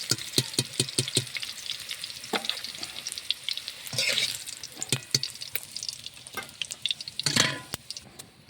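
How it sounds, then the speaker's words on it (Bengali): Capsicum and green chillies sizzle and crackle in a pan for fried rice. A steady frying hiss runs throughout, with sharp stirring scrapes early on and louder bursts near the middle and end. No voices are heard. "ক্যাপসিকাম আর কাঁচা ঝাল সুন্দরভাবে ভাজা হয়েছে"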